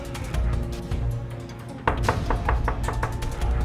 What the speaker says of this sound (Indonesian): Ketok aja pintunya, Bu.